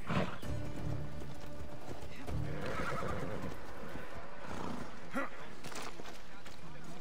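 A horse neighs and whinnies in the Assassin's Creed Odyssey game, with hooves clip-clopping, heard over a constant game backdrop at moderate level.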